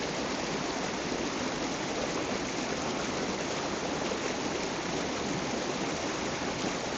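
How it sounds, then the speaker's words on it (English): A small creek at Hickory Run State Park in spring flows steadily with a continuous rushing, splashing wash of water, close and even from start to finish. "this little creek here is flowing pretty good."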